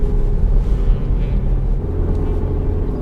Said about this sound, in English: You can hear that little 2-litre